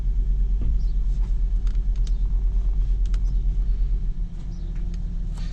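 A Volvo V70/S60 petrol engine (2000–2009 model) runs steadily after a fuel filter replacement, a low continuous rumble with a slight rise in revs, then settling to a quieter idle near the end.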